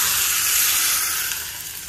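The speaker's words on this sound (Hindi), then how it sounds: "यहाँ मैं लगा दूंगी इसमें तड़का।" A steady, loud sizzle of spices tempering in hot oil, a continuous hiss up close with no voices.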